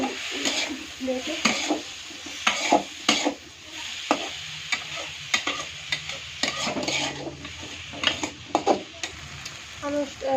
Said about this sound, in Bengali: হলদি দিয়ে দিলে, তারপর নাড়িয়ে চাড়িয়ে একটু রেখে দেবো